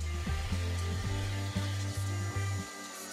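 A CNC Shark HD3 router carving a star shape from material gives a steady, loud motor whine. Its pitch dips in repeated short bumps as the bit moves through the cut, then drops away near the end.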